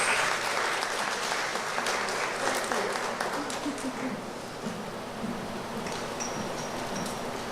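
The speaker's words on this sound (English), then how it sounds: "Let's give her a round of applause." Sustained audience applause at the launch of a San Fernando arts festival, steady and fairly close, easing slightly toward the end with some crowd murmur mixed in.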